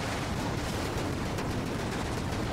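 Constant barrage of rockets firing and exploding in the top-down bullet-hell game Enter the Gungeon, a dense, loud wall of rapid blasts with no pauses and no voices.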